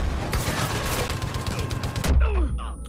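Rapid automatic gunfire in the Far Cry 5 video game, a dense, loud stream of overlapping shots for about two seconds that abruptly cuts off, leaving quieter game sounds.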